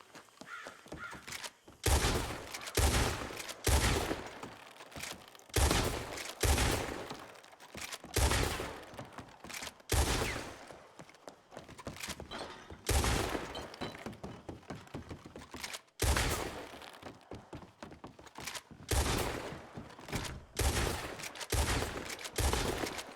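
Gunfire during shooting practice in WildRP, a Wild West role-play game: dense bursts of rapid shots crackle in clusters with brief pauses between them, loud and close, continuing throughout.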